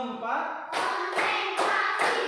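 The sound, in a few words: class clapping hands in counted rhythm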